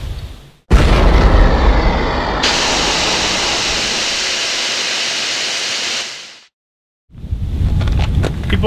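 A loud, sudden boom bursts into a long roaring rumble that holds for several seconds before cutting out, then more rumbling noise returns near the end.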